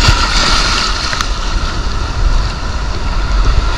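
Ocean waves slosh and break against a small boat at sea during a night spearfishing trip for lobster, with a loud, continuous rush of water and wind buffeting close to the microphone.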